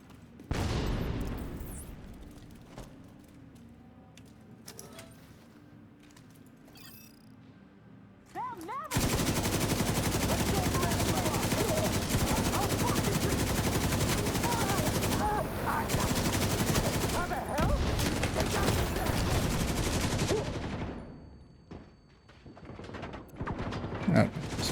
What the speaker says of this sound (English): I'm gonna blind fire my way out of here.